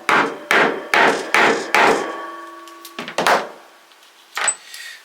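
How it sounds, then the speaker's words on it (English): A hammer strikes a tubular setting tool to fix the cap of a magnetic clasp, about five sharp, evenly spaced blows close up, followed by a few lighter knocks and handling sounds. "We can take our tubular tool here, pop it onto the cap and hammer that through."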